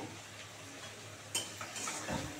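Spices for a fish curry are stir-fried in a pan, a moderate sizzle with a few spoon scrapes and a light clink against the metal.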